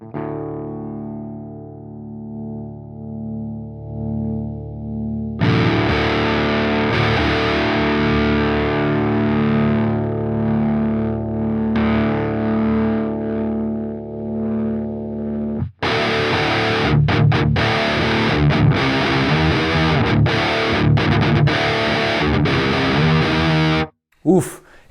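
An electric guitar played through the Neural DSP Fortin Cali amp plugin, sustained distorted chords ringing dry and thick, then a harder, denser driven riff section with choppy palm-muted bursts, loud and close.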